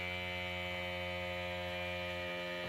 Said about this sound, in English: you can hear the pump pressurizing the air in the tank